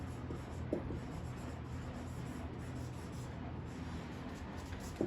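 Pen writing out a math solution on paper for a real numbers proof, a steady soft scratching and rubbing that runs close and continuous with a few light taps, no talking.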